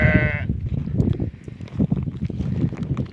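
A sheep bleats loudly with a harmonic, wavering call at the very start, then a busy livestock pen carries on with overlapping animal murmurs and shuffling.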